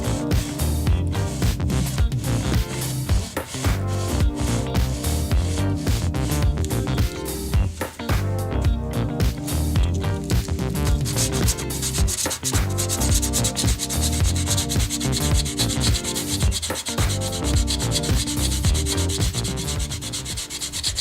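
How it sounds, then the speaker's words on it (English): Hand sanding of fine detail on wooden furniture with 150-grit sandpaper folded over a putty knife, a steady continuous rubbing scrape throughout, close and fairly loud with no talking. "Now I'm going to take some 150 sandpaper and a putty knife and stick the sandpaper onto the putty knife, fold it over, and just start sanding"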